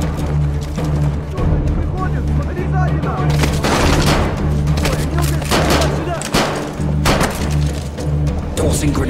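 A frag grenade blast and gunfire in a military shooter video game, continuous crackling shots and bursts over a steady low engine-like rumble, with voices calling out amid the noise.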